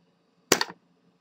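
A single crisp hand-against-hand slap rings out sharply and close, with nothing else around it.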